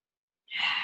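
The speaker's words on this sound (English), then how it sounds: "One more breath." A single deep, breathy inhale-exhale during a beginner hatha yoga session, close and fairly soft, rising after a brief silence and holding steady to the end.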